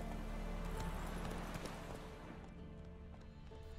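Horse hooves clopping as the rider travels along the coast in The Witcher 3 video game, a steady rhythmic gallop under a dense game soundscape, moderately loud throughout.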